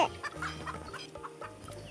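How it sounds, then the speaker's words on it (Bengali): A rooster clucking close by, a few short bursts in quick succession over a quiet outdoor background. "তোমাদের বাড়িতে কি এরকম মোরগ আছে?"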